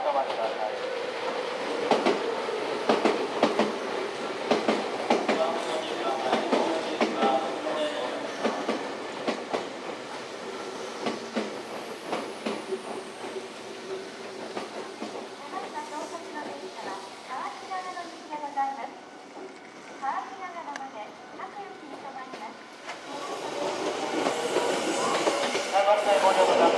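A six-car Nankai Koya Line local train pulls into Nakamozu station during the weekday morning rush, wheels clattering and brakes squealing faintly under a platform announcement.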